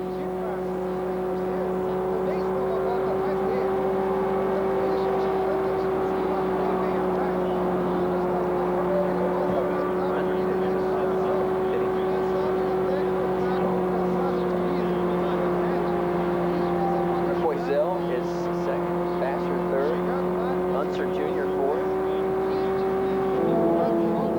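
IndyCar race cars racing at Phoenix in 1993, heard as a steady, loud engine drone with a sustained pitch holding for the whole stretch, under continuous commentary.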